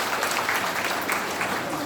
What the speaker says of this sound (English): Let's please give her a huge round of applause.